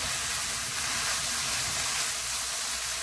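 Dried pollock strips stir-fried in a pan, a continuous bright sizzling hiss at moderate volume with no other sounds over it.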